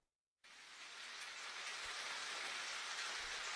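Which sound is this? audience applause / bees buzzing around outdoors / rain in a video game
rain in a video game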